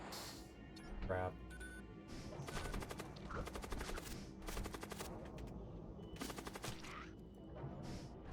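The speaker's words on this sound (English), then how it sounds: "Machine cannon's still not that good." Rapid bursts of machine-cannon fire in a space combat video game, several clattering volleys repeating over the stretch at steady loudness, with game music and a voice talking underneath.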